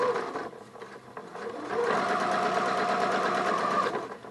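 A sewing machine fitted with an adjustable zipper foot runs steadily, stitching close along piping cord on a cushion cover; the close, loud mechanical whir starts unevenly, then holds a constant rapid rhythm with no talking.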